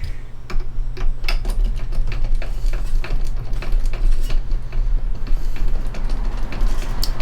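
A tuning peg on a steel-string acoustic guitar is cranked steadily while new string winds on, giving a fast run of small ratcheting clicks against a low steady hum.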